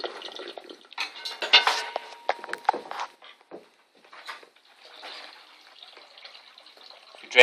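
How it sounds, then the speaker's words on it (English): Water drains from a tank in a senior-project demonstration, with irregular splashing and trickling bursts and some clinks in the first few seconds, then a softer, steady flow ending in a brief louder splash. "if we drain the water again now"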